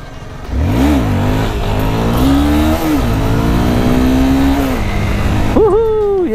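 Motorcycle engine revving hard during a wheelie on a sunny ride, a loud sustained rising and falling engine note close by, climbing steadily then dropping before a sharp final rev.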